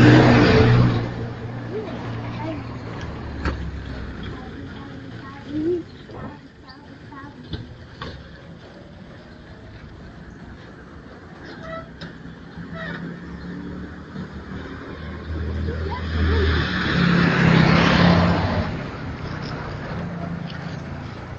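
A car passes by on a road, its engine noise swelling and fading near the end, while people talk nearby over steady outdoor background noise.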